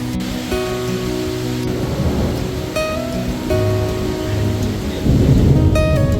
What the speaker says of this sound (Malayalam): ഭയങ്കര കാറ്റും മഴയും